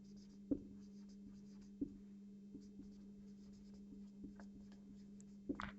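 Hand writing during a cost accounting lesson: faint pen or chalk scratches and a few sharp taps over a steady low electrical hum, with no talking.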